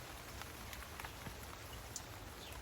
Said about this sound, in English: It's a proper rain now